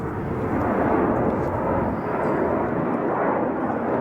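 Jet airliner roaring steadily at Chicago O'Hare airport, a loud, continuous broadband engine rumble that holds constant throughout with no talk.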